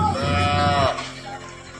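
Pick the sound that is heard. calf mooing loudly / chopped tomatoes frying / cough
calf mooing loudly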